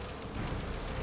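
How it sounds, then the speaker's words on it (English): Bees in Dragon Age: Inquisition make a dense, steady insect buzz that fills the whole moment, loud and close, swelling slightly partway through with no voices over it. "Some more bees. Just all of the bees."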